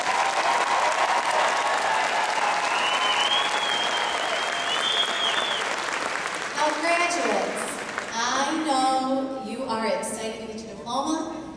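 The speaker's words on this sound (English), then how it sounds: "Let's give them a round of applause." An audience at a graduation ceremony breaks into sustained applause that fills the first half, then fades as a speaker's voice takes over over the dying claps.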